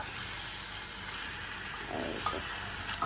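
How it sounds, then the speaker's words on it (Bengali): Ridge gourd and tangra fish sautéing in a pan hiss steadily, with a few faint utensil scrapes and clinks near the end, close and continuous with no talk. "সাথে ঝিঙ্গাটাকে কষাই সাথে করব কি এই যে ট্যাংরা মাছটাও কষাবো"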